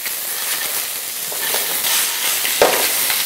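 Ingredients for a clear blue crab soup being stir-fried in a pot, giving a steady loud sizzle and hiss with the scrape of stirring throughout.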